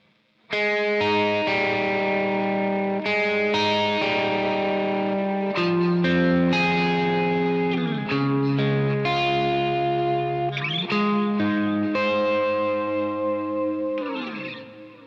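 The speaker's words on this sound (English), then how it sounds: "So we're adding some subtle chorus to the repeats of the delay." Sustained guitar notes ring out with shimmering delay repeats behind each note, given a subtle chorus modulation. The tone is slightly warbly and bends at times, loud and continuous.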